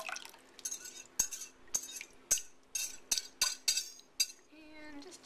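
A spoon stirs starter into warm milk for Greek yogurt, giving a series of light metallic clinks against the pot in an uneven rhythm, close and fairly soft, followed by a brief liquid swirl.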